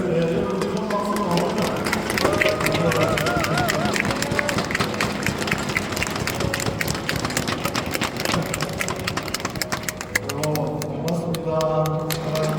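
An audience at a provincial council member's report meeting in Gyeongnam applauds the member's wife with dense, sustained clapping over background music. Talk runs through it.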